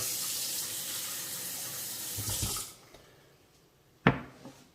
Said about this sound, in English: Next, we just add some hot water.